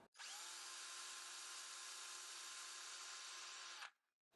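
An electric drill whirs at steady speed for about four seconds, loud and close, then stops abruptly.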